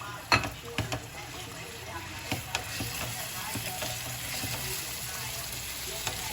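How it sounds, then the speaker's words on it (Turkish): Minced meat sizzles and fries steadily in a pan, with occasional clinks and scrapes of a utensil stirring it, fairly quiet and close, with no talk. "Kıymamı güzelce kavuracağım."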